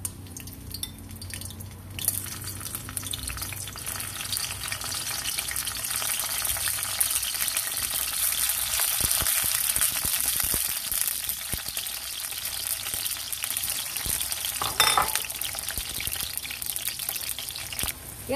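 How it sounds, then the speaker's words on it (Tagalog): Eggplant fries in cooking oil in a pan, giving a faint, continuous hiss of sizzling with scattered small clicks and pops throughout. "Atin muna itong ipiprito."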